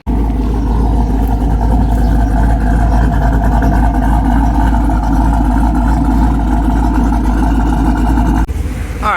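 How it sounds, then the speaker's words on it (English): A car engine runs loud and steady at raised revs while its cooling system is bled of air after an antifreeze top-off, a continuous close-up drone that cuts off abruptly near the end. "I revved the engine up, and it warmed up to like 220"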